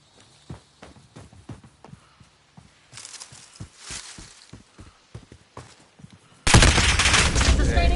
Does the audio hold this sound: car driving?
no